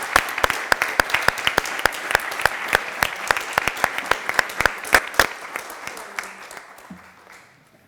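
An audience applauds the guests at the close of a discussion gathering, with crisp individual claps in a fast irregular rhythm that thin out and fade away in the final seconds.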